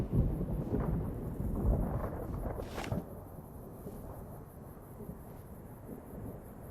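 Rain and thunder in Fallout: New Vegas, with a low rumbling roll that peaks and a sharp crack near the middle before settling into a quieter, steady patter of falling rain.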